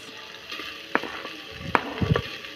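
Beef browning in a frying pan as onions go in, a low steady sizzle broken by a few sharp scraping and stirring knocks near the end.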